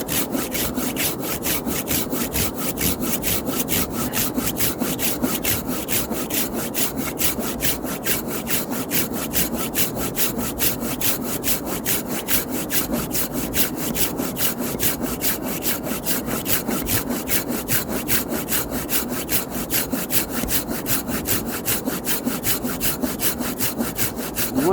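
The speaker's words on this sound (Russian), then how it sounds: "может, еще и получше пилить, чем это. Но у нее зубья более к сырой древесине приспособлены." Hand saw cutting through wood in steady, rapid back-and-forth strokes, a continuous rhythmic rasp close to the listener for the whole stretch, with no talking.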